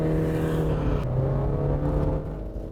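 A 2015 Honda Fit hatchback accelerates hard, its engine note rising steadily from inside the cabin as a sustained, moderately loud drone that climbs in pitch over a few seconds.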